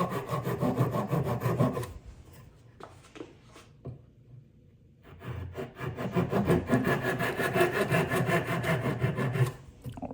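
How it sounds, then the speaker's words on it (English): Hand saw cutting through the wood of a violin scroll at close range, steady back-and-forth rasping strokes in two bursts separated by a quieter pause with light tapping, no talk. "It's pretty easy to use the saw in this stage"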